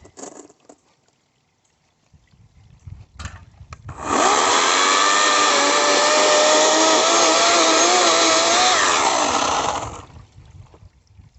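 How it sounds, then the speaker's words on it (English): A chainsaw cuts into a plant in a yard, roaring loud and close for about six seconds at a steady, slightly wavering pitch, with quieter rustling and handling before and after. "I'm going to need to use the chainsaw on this part."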